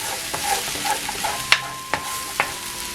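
Shark fish with banana flower being fried on low heat in a pan, a soft sizzle with three or four distinct spatula scrapes and taps, close and without voices.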